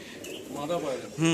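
Red chapka pigeons, a pair of females, coo softly in a cage while someone talks nearby.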